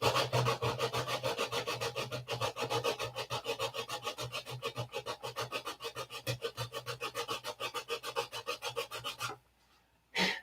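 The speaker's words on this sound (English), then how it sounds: "So we'll mix up a little super fill and trowel them in to get them started." Filler is worked onto wood with a trowel in a steady back-and-forth scraping rhythm, dozens of quick even strokes close up, stopping briefly near the end and then resuming.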